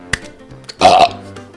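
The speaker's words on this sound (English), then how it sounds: "Damn burp." A single loud, throaty burp lasting about a quarter second, preceded by a couple of small mouth clicks, close to the microphone in a quiet room.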